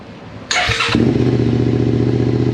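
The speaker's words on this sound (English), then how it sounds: "I'm gonna start it for the first time, and let's see how this thing sounds." A 2023 Suzuki SV650 motorcycle with a full M4 aftermarket exhaust: the starter whirs briefly, then the engine catches and settles into a loud, throaty, steady idle close by.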